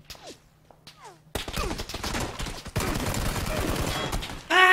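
Gunfire in PUBG Battlegrounds: a few quiet sparse bursts first, then a sudden loud, dense fusillade of rapid shots and impacts that continues in waves and grows heavier toward the end.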